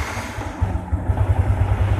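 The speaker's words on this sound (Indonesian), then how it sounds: "Coba kita sedikit nyalakan." A Yamaha MX King 150 60th Anniversary motorcycle engine starts and settles into a steady, close low idle that chugs with a fast, even pulse.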